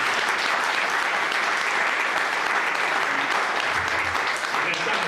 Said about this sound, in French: une bonne main d'applaudissement pour tout le monde